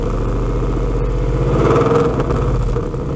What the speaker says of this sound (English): first the touring mode sounds like this, sitting at idle, and with a little bit of acceleration